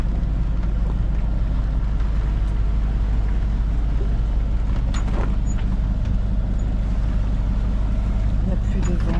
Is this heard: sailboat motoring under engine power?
yes